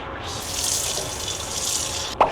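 An eel being rinsed under a running kitchen tap, a steady close hiss and splash of water pouring into a sink for about two seconds, ending with a short knock.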